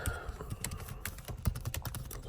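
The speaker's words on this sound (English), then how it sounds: "just typing, letting the fingers do the walking" Steady, fast typing on a computer keyboard during homework, a close, continuous patter of key clicks with no talking.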